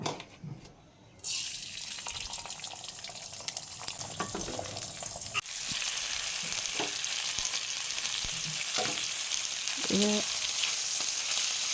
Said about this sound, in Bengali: কড়ার মধ্যে ডিমটা দিয়ে দিয়েছি।